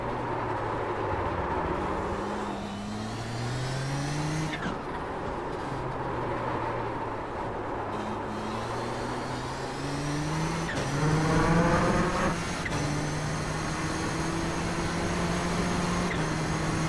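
A Nissan GTP ZX-T race car laps Silverstone Grand Prix in the iRacing sim, its engine droning up through repeated gear shifts and rising pitch sweeps, with a steady close roar and a louder burst near the end.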